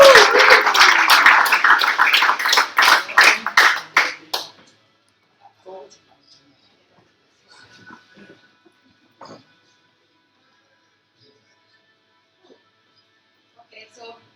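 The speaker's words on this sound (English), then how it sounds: "Can I get a big round of applause for Rachel" An audience at a speaker event applauding, dense clapping for about four seconds that stops abruptly, followed by near silence with a few faint scattered sounds.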